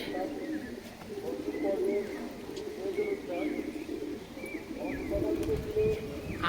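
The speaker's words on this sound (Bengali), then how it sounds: "কবুতর উড়ে এসে সব ছাদের মধ্যেই আছে আরও কবুতর উড়ছে" Fancy pigeons coo in soft, repeated rolling calls on a rooftop loft, several birds close together, with faint chirps in the background.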